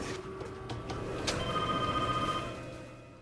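A telephone rings in a film scene, a sustained electronic ring with steady tonal bands standing fairly loud against a low background hum, no voices present.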